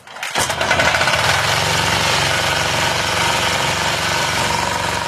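An engine running on synthetic oil made from sea algae, unrefined, firing up abruptly and then holding a loud, steady, rough-running roar close by.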